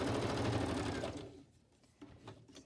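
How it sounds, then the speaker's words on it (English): Sewing machine stitching down the middle of paper ephemera for a journal, a quick close run of rapid stitches that stops after about a second, followed by quieter handling noises. "I'm going to just stitch down the middle"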